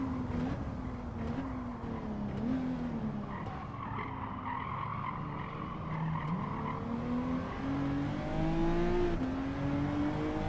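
A race car in Gran Turismo 7 brakes hard on the Tokyo East circuit, tires skidding and squealing in long wavering tones over a steady engine roar, close and sustained for about ten seconds without talk.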